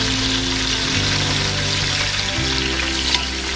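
Oxtail pieces frying in a pan of oil make a strong, constant sizzle up close, a thick hiss with light crackling and a faint low drone beneath, unbroken throughout and free of speech.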